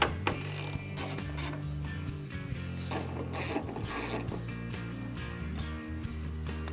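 A ratchet backs out the 5/16 bolts holding a tail light on a 2009–2014 Ford F150, giving quick, close mechanical clicking in short runs over steady background music.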